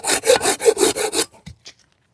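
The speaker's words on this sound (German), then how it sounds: "sägen wir es mal hier ein Stückchen ab" A hand saw cuts through a small piece of wood outdoors, giving six rhythmic back-and-forth rasping strokes before stopping, followed by a few faint knocks and rustles.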